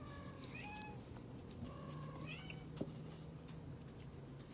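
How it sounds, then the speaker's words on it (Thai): Cat meowing outdoors: several short, fairly faint meows spread across the moment over soft background noise, with no talking. "แมวร้อง"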